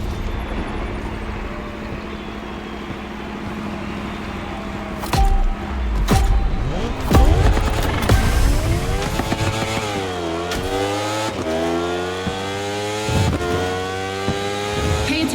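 Racing motorcycle engines in The Crew Motorfest rev hard and climb through the gears, with rising and falling whines and sharp shifts. Loud and close, the engines howl up and down over a steady roar.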